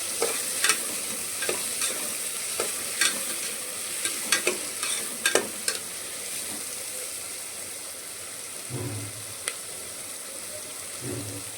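Stirring a tomato and chana dal (lentil) curry in a cooking pan: repeated scraping strokes and soft clinks over a steady low sizzle, close and moderately loud, with no talk.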